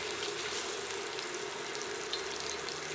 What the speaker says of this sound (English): Go ahead and flip it.